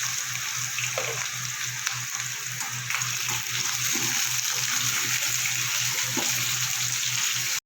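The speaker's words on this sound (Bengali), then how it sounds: "আলুটা আমার লাল করে ভাজা হয়ে গেছে" Diced potatoes fry in hot oil for a Bengali pointed gourd recipe, giving a loud, dense, continuous sizzle with faint scraping, heard close up without any talking.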